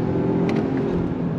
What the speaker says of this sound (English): Regular drive, on throttle, here we go.